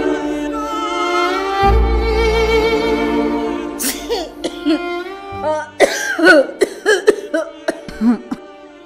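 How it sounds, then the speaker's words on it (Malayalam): After a drawn-out vocal sound, a person coughs in a series of short, harsh bursts, loud and close, the fits coming unevenly over several seconds. "നല്ല ചുമണ്ട് കേട്ടോ,"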